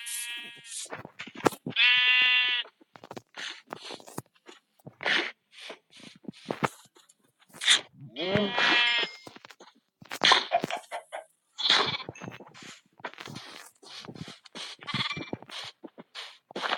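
Sheep bleat in a farming video game while a barn is being built: a few distinct nasal bleats near the start and middle, mixed with short bursts of other game sounds.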